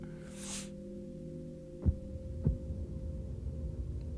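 Two deep heartbeat thumps in The Legend of Zelda: Tears of the Kingdom, evenly spaced about half a second apart, over a steady low hum with a brief airy swell before them; no talking.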